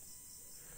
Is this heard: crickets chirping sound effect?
yes